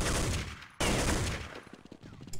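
Gunfire in Counter-Strike on a competitive match map: rapid bursts of automatic shots crackle loudly, cut briefly, then resume as a dense volley before thinning into scattered individual shots.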